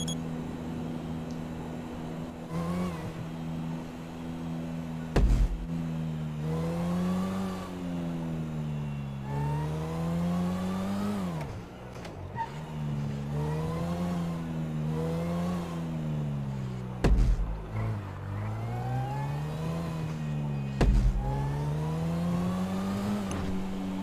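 A car in the Grand RP driving game accelerates and cruises, its engine tone rising and falling in repeated revving sweeps, with a few sharp thumps along the way and no voices.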